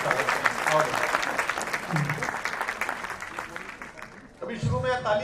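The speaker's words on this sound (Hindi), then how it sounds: "एक बार जोरदार तालियां बजाकर" Loud, dense audience applause greets a comedian at a Hindi comedy poetry gathering (kavi sammelan) by a sweet shop, sustained for about four seconds before a voice starts speaking over it.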